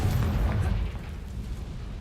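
A Confringo spell blast in Hogwarts Legacy lands as a deep, rumbling boom. It hits loud at the start and fades into a lingering low roar.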